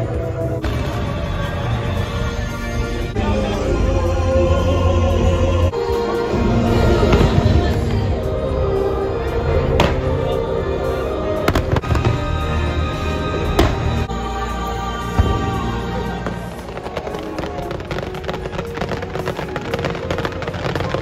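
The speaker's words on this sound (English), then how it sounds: "the fireworks are about to start" Fireworks show at Epcot: loud booming bursts and crackling explosions in rapid succession, with a crowd murmuring underneath.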